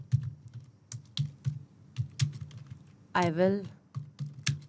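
Fingers type a comment on a computer keyboard, quick uneven bursts of close key clicks, with a person briefly speaking partway through.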